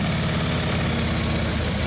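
Harley motorcycle engine idling in neutral, a loud, steady, low rumbling throb that stays even throughout at close range.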